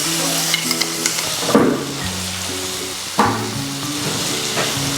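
Ground mint paste sizzles and fries in a pan with turmeric, a steady close hiss broken by bursts of spoon scraping and stirring.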